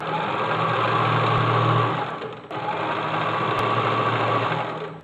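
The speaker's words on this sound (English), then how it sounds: "We're going to turn it over just once and put a row of stitching down there." A sewing machine runs steadily, stitching a row along a fabric edge for a book cover, with a continuous fast mechanical whir that briefly dips mid-way before resuming at the same close, even pace.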